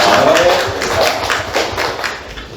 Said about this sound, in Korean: 우리 주님께 영광의 박수입니다.